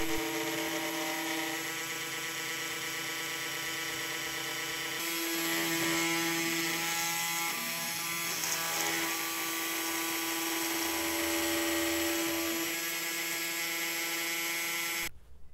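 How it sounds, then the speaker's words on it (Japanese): A FoxAlien desktop CNC router mills aluminum with a steady, loud whine rich in harmonic tones. The sound runs continuously and close up, then cuts off abruptly at the end. "次はアルミ加工に挑戦してみます。"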